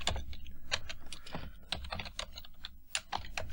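Java code being typed on a computer keyboard: a steady stream of quick, close key clicks with uneven rhythm and no voices.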